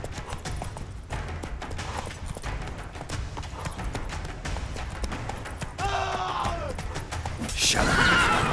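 A horse gallops in the video game The Witcher 3: Wild Hunt, its rapid hoof clip-clop loud and continuous, with a whinny near the end and character voices speaking over it.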